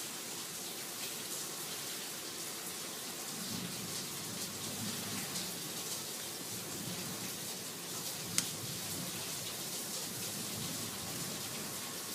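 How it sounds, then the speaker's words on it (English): Steady rain hisses down in a continuous wash of noise during a storm, with a faint low rumble of thunder partway through and a single sharp tick near the end. "We have a big storm rolling in."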